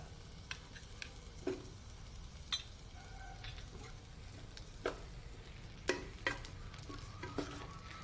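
A spoon stirs cornflour and flour into a pan after the stove is turned off for a fig and prawn dish, quiet scraping with sharp scattered clicks and taps against a low faint sizzle.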